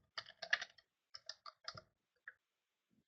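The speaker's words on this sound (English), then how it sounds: "Let me just type in." Typing on a computer keyboard into a chat box, a quick burst of close, crisp key clicks in short clusters, then a pause and a final lone keystroke, with no talking.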